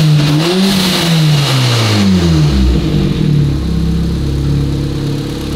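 A car engine, on its first start after a fault and slow to warm up, revs up and down through several throttle blips, its pitch rising and falling, then settles to a lower rumble, loud and close.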